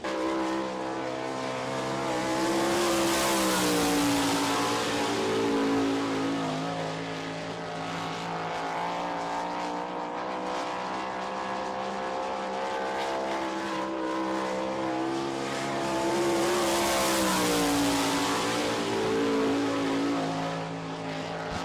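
Sprint car engine on an All Star Circuit of Champions qualifying lap at Barberville speedway, Florida, a loud sustained roar with harmonic whine that swells twice as the car passes close, fading between passes.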